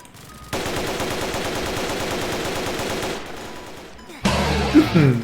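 Guards in the Roblox Squid Game spray rapid automatic gunfire in a dense, continuous burst for about three seconds, then it drops away and a louder, different game sound cuts in near the end.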